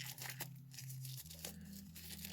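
A small plastic bag from the packaging of a lavalier microphone kit is torn open, giving quiet crinkling and ripping bursts over a low steady hum.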